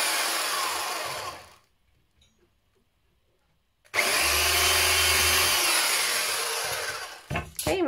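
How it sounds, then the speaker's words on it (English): A power drill whirs loudly into wood in two bursts separated by a quiet pause, with a short clatter at the end. "I'm going to go and put two holes in the centre of each square with a drill."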